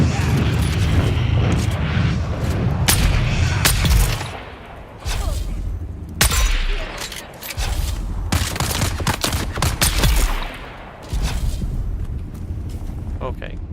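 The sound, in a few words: gunfire in Dune Awakening video game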